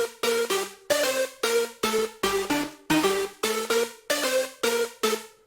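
Hardstyle fusion lead in FL Studio with a Pro Q dip carved in, loud rhythmic bright stabs repeating in a steady driving pattern, no voice over it.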